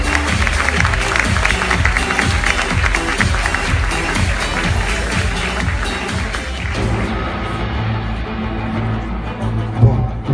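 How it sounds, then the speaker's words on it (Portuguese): An audience at a makeup award ceremony claps steadily and loudly for about ten seconds while background music plays, tapering slightly near the end. "Salve de palmas"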